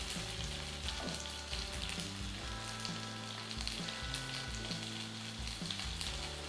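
Korean vegetable pancake frying in oil in a pan, a continuous close crackling sizzle with scattered pops, steady and moderately quiet with no talking.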